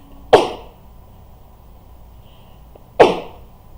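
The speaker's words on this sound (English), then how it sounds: "there is sneeze coming on." A person sneezes twice, each a sharp, loud, close burst about two and a half seconds apart, with quiet room tone in between.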